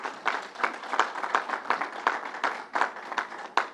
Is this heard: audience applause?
yes